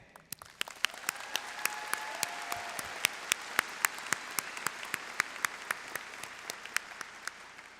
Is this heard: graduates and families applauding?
yes